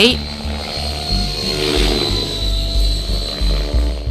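A remote-controlled helicopter with 1.5-metre carbon-fibre rotor blades, a roughly 3 kg professional competition model, drones loudly and continuously with a throbbing rotor hum in a park in Brooklyn, New York.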